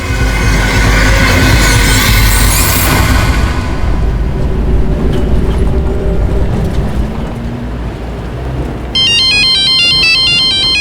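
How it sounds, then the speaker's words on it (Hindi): A telephone rings with a repeating electronic tone, loud and close, starting near the end after a long stretch of heavy rumbling train noise. "मैं आपको फोन उठा के देती हूँ।"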